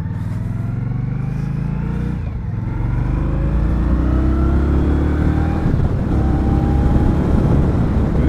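Engine of a 2020 Indian Scout ABS motorcycle accelerating smoothly, a loud steady low rumble with rising tones through gear changes, heard up close while riding.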